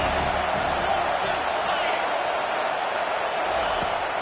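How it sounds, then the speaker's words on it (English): A football stadium crowd roars steadily for the defense on third down, a dense, continuous wash of cheering that holds loud and even throughout, with commentary faintly beneath. "Decibels rising as the crowd gets behind this defense on third down."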